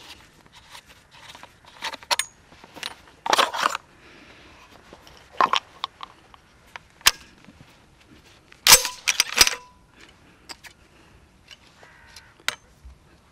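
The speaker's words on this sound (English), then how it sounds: "If I take the forend off, you'll see" Forend being taken off an Armsan A612 gas-operated semi-automatic shotgun, a series of scattered metallic clicks, scrapes and knocks at close range, separated by quiet pauses.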